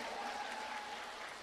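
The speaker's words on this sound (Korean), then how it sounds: "다섯 분들 위해서 다시 한번 뜨거운 박수," Applause from a supporters' section cheering five remaining contestants at a Buddhist festival's quiz-style bell-ringing challenge, heard as a steady wash of clapping at moderate distance, fairly quiet, with no talk over it.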